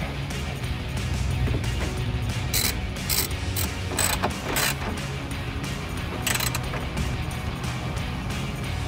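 A hand ratchet snugs a bolt on a 2018-2020 Ford F-150 emblem housing, giving near, repeated bursts of fast metallic clicks over a low background rumble, with no talking.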